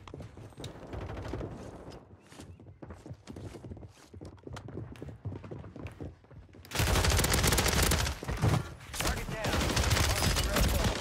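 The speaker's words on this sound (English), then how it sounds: "And I'm just getting sniped at." Bursts of gunfire in the Call of Duty MW3 video game while being sniped at: scattered sharp shots at first, then a loud, dense barrage of overlapping fire for the final few seconds.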